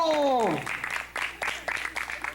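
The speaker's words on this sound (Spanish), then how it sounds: "A ver, aplauso para mi amigo." After a brief falling voiced tone, scattered applause comes in uneven bursts of claps at moderate volume.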